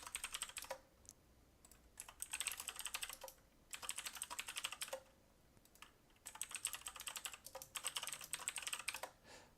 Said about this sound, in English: Sorry, mechanical keyboard.